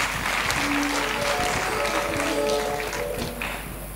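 Audience applause at a stage presentation for a OneCoin DealShaker launch in Uganda, dense clapping from a crowd that carries on steadily and then starts to fade near the end.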